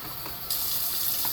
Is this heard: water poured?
yes